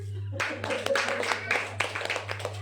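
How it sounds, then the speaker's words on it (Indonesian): An audience claps in a short burst at a gathering in Jayapura, Papua. The clapping starts abruptly, stays moderately loud and scattered for a couple of seconds, and a steady low hum runs underneath. "Tepuk tangan buat Tuhan Yesus."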